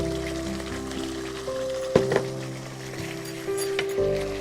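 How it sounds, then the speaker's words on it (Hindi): Water hits a pan of curry gravy with a soft sizzling patter, quiet under steady background music. "अब इसमें डालेंगे नमक और पानी।"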